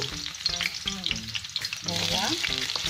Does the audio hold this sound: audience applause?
no